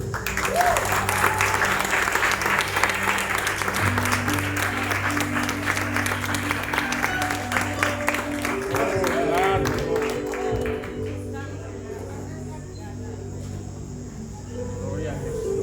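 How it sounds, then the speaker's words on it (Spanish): Church congregation applauding in a sustained, dense wash of clapping under a pastor's sermon, with voices, tonal hum and other sounds mixed in, fading lower near the end. "Con ese aplauso yo te predico."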